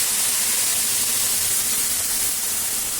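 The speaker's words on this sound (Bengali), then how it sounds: "তো এটাতে আমি এখন দিয়ে দেবো মশলাটা" Spice paste goes into hot oil in a cooking pan and sizzles as a loud, steady, unbroken hiss that holds at an even level throughout, with no talking.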